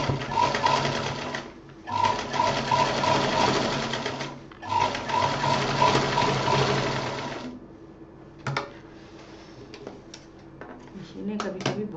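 A sewing machine stitches a handmade handbag in three long steady runs, each a loud, rapid mechanical whirr, followed by quieter handling clicks and someone speaking.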